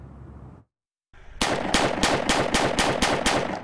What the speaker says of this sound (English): Several groups of shooters were out testing their aim at the Mud Hill shooting area Monday.